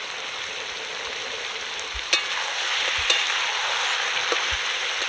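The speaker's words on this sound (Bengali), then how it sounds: "এবার আমি কুচনো টমেটো এর মধ্যে দিয়ে দেব।" Chopped tomatoes going into a pan of country chicken curry cooked village style, giving a steady broad sizzle throughout with a few soft stirring knocks and clicks; no talking.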